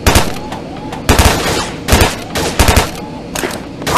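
An IWI Uzi Pro 9mm fires in rapid, loud bursts in the VR shooting game Gun Club VR, several short strings of close shots separated by brief pauses.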